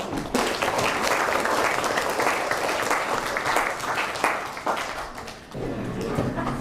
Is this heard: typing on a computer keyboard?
no